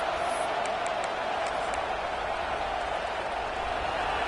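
Crowd in a football video game roars steadily at a goal-line moment, a dense, constant wall of stadium noise with faint scattered clapping and cheering.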